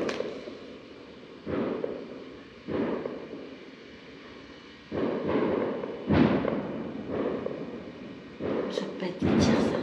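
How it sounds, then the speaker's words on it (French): Fireworks bursting outdoors in a residential neighbourhood: a series of dull, booming pops arriving in uneven clusters over several seconds, moderately distant, with crackling bursts near the end. "Ça peut pas être des tirs, ça. C'est des feux d'artifice."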